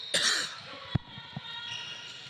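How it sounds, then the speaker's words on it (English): A short, sharp cough cuts through a noisy gym during a high school basketball tournament game, followed by a softer second cough, with background crowd noise and a voice nearby. "Pardon me for my coughing fit here."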